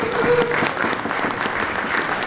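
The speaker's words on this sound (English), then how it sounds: "please give a round of applause for our special guest, first of all, Darren Fletcher" A live-show audience applauds a special guest, Darren Fletcher, with steady, loud clapping from a crowd filling the room, mixed with a brief tonal sound near the start.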